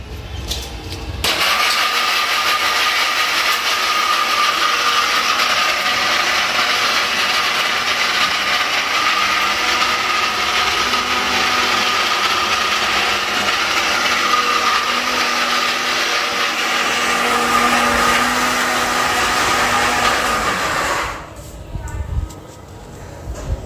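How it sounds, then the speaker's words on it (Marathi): Mixer grinder blending grated coconut into a paste for rice kheer in a home kitchen: a loud, steady motor whine and churning that runs unbroken for about twenty seconds, then stops abruptly. "तांदूळ तुपामध्ये ना मस्त भाजून मिक्सरला पेस्ट केलेली आहे आणि आता खोबरं पेस्ट करते"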